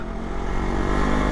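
Suzuki Satria Lumba (RU 120) two-stroke motorcycle engine running steadily on a test ride, a continuous close, loud drone with a low rumbling hum and no talking.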